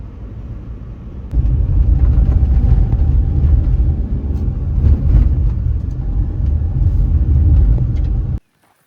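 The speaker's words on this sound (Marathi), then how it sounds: "ट्रॅफिक जॅम लागलेलं आहे इकडे, एवढं ट्रॅफिक आहे काय सांगू तुम्हाला" Steady low rumble of vehicles idling and creeping along in heavy traffic, close and loud, cutting off abruptly at the end.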